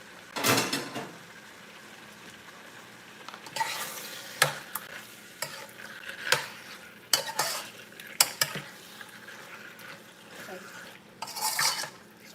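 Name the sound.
onions stirred and cooking in a pan over high fire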